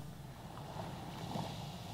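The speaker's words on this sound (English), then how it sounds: "this is my alarm clock sound. I have set this in the morning to start with waves." Steady ocean waves and surf played as an alarm clock sound on a Logitech SqueezeBox Boom network music player, a continuous soft wash of surf with no distinct breaks, alone with no voices.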